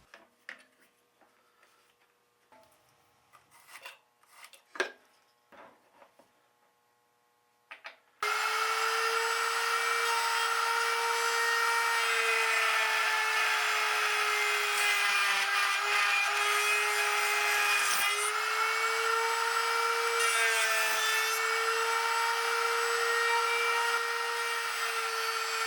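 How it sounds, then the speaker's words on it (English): After some quiet handling clicks, a router on a Leigh RTJ400 router table dovetail jig starts up with a straight bit and cuts pins in wood, a loud, steady high whine with small dips as the workpiece moves. "To route out the pins, I'll just flip the handle around to cut on the pin side of the jig, change to a straight bit, and repeat the process."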